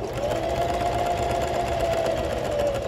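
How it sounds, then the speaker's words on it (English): A sewing machine runs steadily, stitching a quarter-inch seam to repair a frayed tear, its motor whirring loud and continuous without a break. "I stitch forward 2 or 3 stitches, and then I'm gonna reverse because that locks it so that it won't actually come undone"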